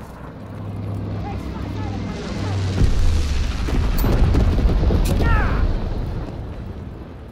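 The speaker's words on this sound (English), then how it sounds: "Enemy bomber! Incendiary bombs incoming!" Incendiary bombs dropped by an enemy bomber in the World War II shooter Call of Duty: WWII: a steady low rumble swells into a heavy blast and then rolling, crackling explosions that slowly fade.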